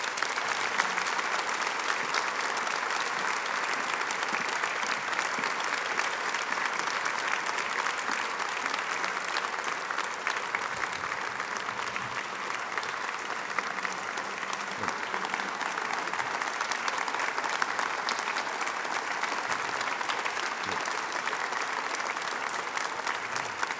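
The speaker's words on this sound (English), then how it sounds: "let's give him a big round of applause" Long, steady applause from an audience at a military medicine award ceremony honoring a Navy admiral, with continuous, even clapping that never lets up.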